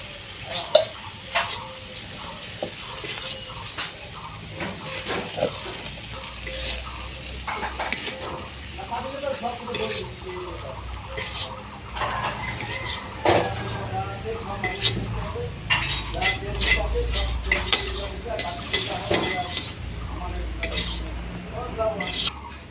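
Spoon scrapes and clinks against a pan as a cooked curry of sponge gourd, potato and dried fish is scooped out, with a soft sizzle underneath and a few sharper metallic taps throughout.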